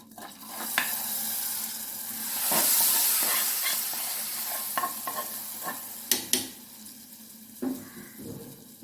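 Roasted masala poured into a pressure cooker on the stove for thick chickpea curry, sizzling in a steady close hiss broken by scattered clinks and scrapes of stirring, with no talking.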